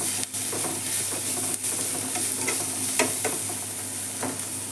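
Onions sizzle in a pan with turmeric for aloo fry, a close steady frying hiss broken by scraping spatula strokes as they are stirred, with no voices.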